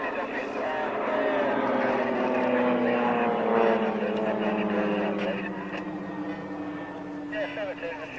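Turboprop aircraft with a PT6A engine performing aerobatics at the 1999 Woodford Airshow, a steady loud engine drone with a shifting pitch that fades slightly toward the end, heard under continuous public-address commentary.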